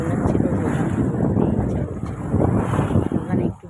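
Strong river breeze at a riverside in Diamond Harbour buffets the microphone in a loud, continuous low roar, with faint water and surroundings beneath it.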